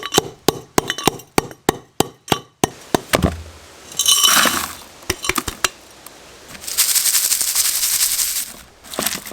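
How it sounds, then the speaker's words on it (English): A hammer whacks gold-bearing ore rocks to break them into smaller pieces, giving about a dozen sharp, evenly spaced clinking blows close by, then bursts of rattling, gritty crunching as the broken bits shift. "We are just going to give this a nice couple of whacks to break these bits down further"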